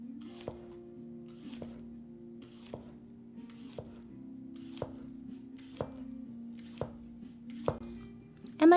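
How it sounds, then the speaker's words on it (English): Green onion is chopped on a board in a series of sharp knife thunks at a steady, unhurried rhythm of about one per second, close and distinct over a low hum. "Am I cutting too much green onion?"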